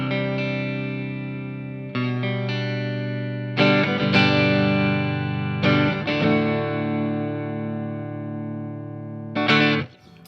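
Fender Parallel Universe Vol II Magico Telecaster electric guitar played through its neck pickup with an effects unit, strumming a few ringing, slightly distorted chords that sustain and decay between strikes.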